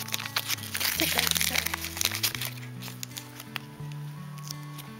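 Foil sticker packs for a Harry Potter-themed magical sticker album crinkle and tear open in repeated bursts close up, with a steady hum and music underneath.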